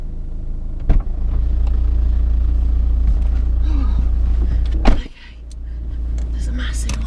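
An off-road vehicle approaches along a bush track in Victoria's Alpine National Park, a steady engine rumble and drone running continuously and loud throughout, with a brief knock near the start and another around five seconds.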